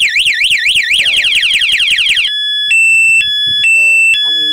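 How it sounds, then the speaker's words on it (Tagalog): Motorcycle two-way security alarm going off loud and close, first a rapid warbling siren, then alternating high steady electronic tones in long blocks. "pag ginalaw mo yung motor ay mag-a-alarm"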